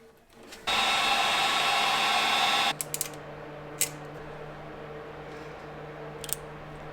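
A heat gun blows a loud, steady rush for about two seconds while shrinking heat shrink tubing over spliced wiring for a custom harness in an LS3-swapped Land Rover Defender, then cuts off, leaving a low hum and a few light clicks.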